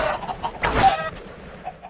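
Chickens cluck in the Minecraft video game, a few short game-sound squawks close by with one louder burst in the middle, over faint background noise.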